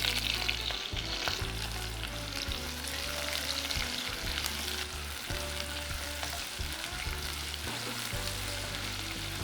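Onions frying in a pan for a rajma palak curry, with green chilies already in, a steady close broadband sizzle with occasional stirring scrapes running continuously and evenly throughout.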